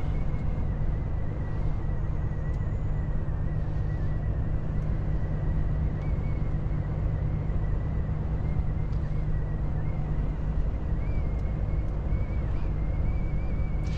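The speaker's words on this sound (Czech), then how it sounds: "vypneme si zase tady ten fukar, ať to není slyšet, protože to je hnus." A truck cab heater blower fan runs steadily, a constant broadband whoosh with a low hum beneath it, loud and close, unchanging for the whole stretch, with no talk.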